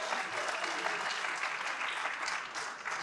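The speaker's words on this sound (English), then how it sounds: "Please give a round of applause to Daniel." Steady, dense applause from a school audience at a Life Savers rally during a text-message competition, a full crowd clapping evenly and loudly for the whole stretch with no voices on top.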